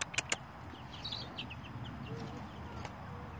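Young chickens near a coop give soft, faint clucks and chirps over a quiet background, with a few sharp knocks at the start.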